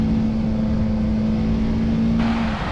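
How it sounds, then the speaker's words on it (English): A BMW G310 R motorcycle engine runs with a steady, loud exhaust drone and a constant low tone, rising into a brighter, harsher note near the end as the revs climb. "Sound of the bike has been improved in both low RPM and high RPM."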